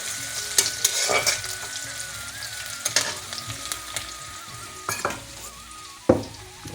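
Food fries lightly in hot oil in a pan, with a soft sizzle beneath repeated scraping stir strokes and sharper utensil clacks at irregular intervals.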